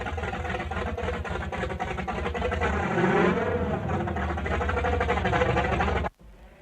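A racing car engine, rebuilt with a racing camshaft, high-compression pistons and an oil pump booster, runs with a steady, close droning hum and a buzzy rasp before abruptly cutting off near the end.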